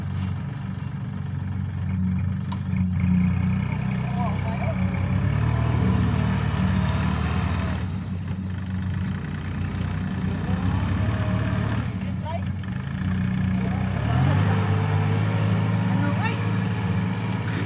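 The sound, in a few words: tractor engine running during rice harvest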